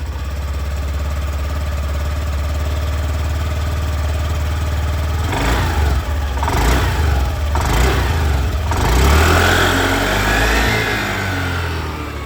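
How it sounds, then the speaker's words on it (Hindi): A Honda Activa 110 scooter's engine and exhaust, idling steadily up close, then given a few short throttle blips and a rising rev near the end, loud and continuous with no voices. "और अब मैं आप लोग को यहाँ पर एक्टिवा की जो आवाज़ है वो भी सुना दूं।"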